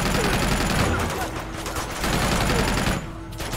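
Rapid bursts of automatic gunfire from the video game Uncharted 2: Among Thieves, loud and sustained through most of the stretch, with a short lull near the middle and a voice talking over it.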